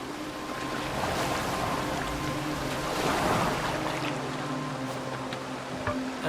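A boat moves across open water in the Assassin's Creed Valhalla video game, a steady wash of waves and wind with a low hum beneath that swells briefly midway, with no voices.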